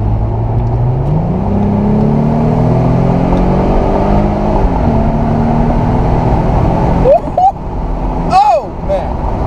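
A Mercedes CLK convertible accelerates hard, its engine note rising through gears in a loud, steady drone heard from inside the open car, with wind noise and a couple of brief tire or shift chirps near the end.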